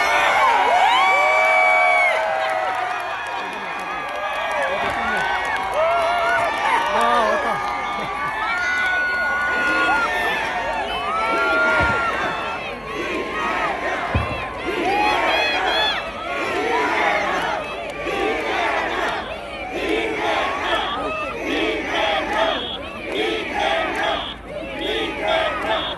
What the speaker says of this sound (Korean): 우리 뜨거운 함성과 박수로 이재명 대표를 맞이해 주십시오.